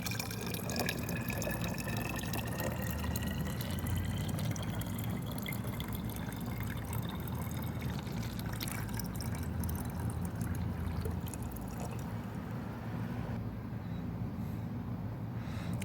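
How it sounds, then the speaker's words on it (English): Water running steadily into a container while mixing a foliar feed, a continuous gurgling fill that holds at an even level throughout. "finish it off with some water."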